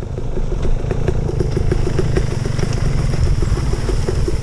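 An enduro motorcycle idles nearby, its engine putting out a loud, steady, rhythmic chugging with a slight mechanical clatter throughout, and no voices over it.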